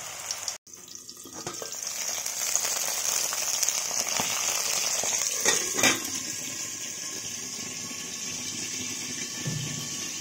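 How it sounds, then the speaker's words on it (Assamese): Food fries in a pan in a village kitchen with a steady, bright hiss and sizzle that holds throughout. It starts with a sharp click and has a few louder crackles midway, and nobody talks. "এইটো ফ্ৰাই হৈ আছে"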